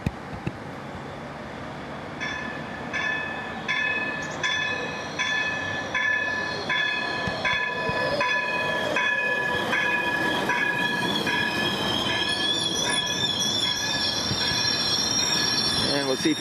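An O-Train light rail train at Confederation station rolls past loudly and close, its wheels squealing with steady rhythmic clicking, then a sustained high screech near the end, with faint voices in the background.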